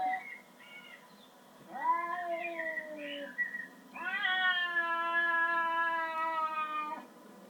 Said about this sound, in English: It's two cats.